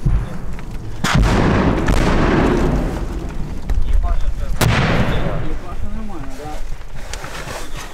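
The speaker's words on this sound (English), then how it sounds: "We're going to shoot a 60 caliber there." Loud heavy gunfire from a large-caliber weapon in a Ukrainian war zone, with a few sharp booming shots echoing over rumbling background noise, while people talk nearby.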